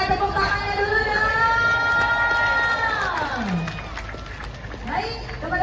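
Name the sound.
crowd applauding and cheering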